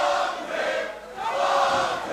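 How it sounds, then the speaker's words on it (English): Crowd at a live wrestling event in Brisbane roars and jeers at a wrestler, a loud, sustained wash of many voices that swells twice. "And the crowd letting Hammerstone know what they think."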